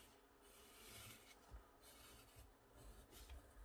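A pencil darkens lines on paper, making soft, faint rubbing strokes in an uneven rhythm, close up in a quiet room with no talking.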